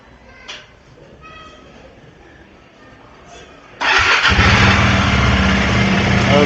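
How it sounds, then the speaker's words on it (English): A KTM 390 Adventure motorcycle's single-cylinder engine catches and settles into a loud, steady idle after a few seconds of quiet clicks and handling noises, the running engine close and dominant to the end. "Let's fire up the bike and see if everything works."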